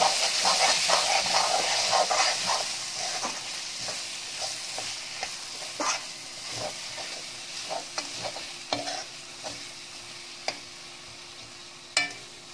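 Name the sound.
stirring spices in a frying pan for chicken curry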